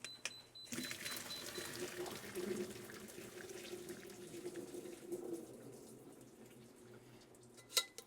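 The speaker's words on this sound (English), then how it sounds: "we'll take it over here to the sink and drain it" Cooked vegetables for a Victorian-style Indian curry, turnip among them, are drained at a kitchen sink, giving a steady mid-level watery pour and splash that runs for several seconds, then thins, with a short clunk near the end.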